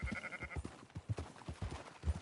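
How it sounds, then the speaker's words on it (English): Sheep in the video game Red Dead Redemption bleat several times in quick succession, with wavering calls over soft footsteps and movement, fairly close and moderately loud. "Marston, why don't you leave the sheep to me?"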